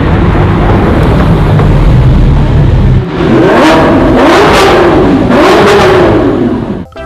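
Toy Lamborghini car giving off a loud electronic engine-revving sound, a sustained roar followed by three rising and falling revs up close, ending abruptly.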